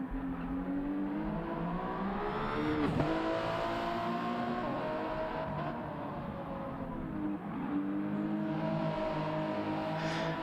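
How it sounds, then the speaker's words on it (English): A Toyota GR010 hypercar engine roars in a racing video game during a prototype series race, a continuous loud whine that rises and falls with gear shifts and a sharp dip and climb under braking and acceleration, with no talk. "we are in a Toyota GR010 hypercar as well"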